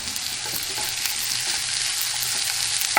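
Shallot and pepper frying in a pan, a steady close sizzle with a soft continuous crackle running the full length, no voices present.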